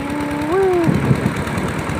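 Engine of a water well drilling rig running at the drill site, a steady mid-pitched drone that shifts upward partway through, then settles into a rougher, knocking idle; loud and close, with no talk.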